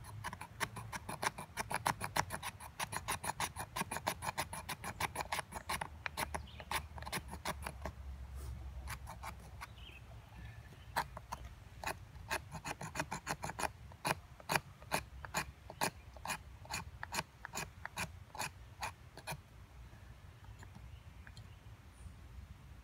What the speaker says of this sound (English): Get some scraping going.